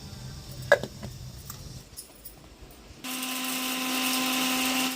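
A mixer grinder whirs loudly and steadily as it grinds spice powder for mango rasam, starting abruptly after a few quiet handling knocks and running alone to the end.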